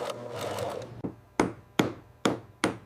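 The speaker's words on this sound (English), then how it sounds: "Gently hammering the seams bonds the layers and ensures a sleek profile." Hammer blows on the seams of a crocodile leather bag in a leather factory: five sharp, evenly spaced knocks ringing close and clear after a brief stretch of scraping, with no voices.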